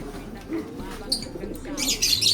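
A racing pigeon gives soft, low cooing calls close by, mixed with a few brighter chirps and light rustling in a loft.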